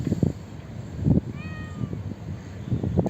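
A cat meows in a workshop beside a fiberglass boat build, several short rising calls around the middle, moderately close amid low background rumble and knocks.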